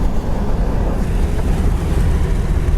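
A 1971 Ford Torino cruising down the highway with the windows rolled up, giving a steady, loud low rumble of road and engine noise with a faint wind hiss, continuous and without talk.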